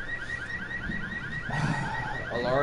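A car alarm from the video game Resident Evil 6 wails in a steady repeating warble, loud and close, with game noise swelling underneath toward the end.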